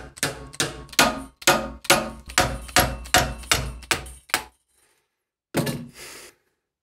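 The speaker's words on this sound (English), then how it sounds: "I can now go ahead to force out the steel rod, which is still sticking inside the part" Hammer blows force a stuck steel rod out of a metal joystick push-button part: about eleven sharp, evenly spaced strikes, then a pause and one last ringing hit, close and loud.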